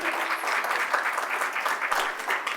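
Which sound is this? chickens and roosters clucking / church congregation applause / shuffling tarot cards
church congregation applause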